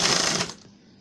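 A sewing machine stitching a cloth tassel on a blouse makes a quick, close burst of rapid mechanical whirring that stops abruptly after half a second.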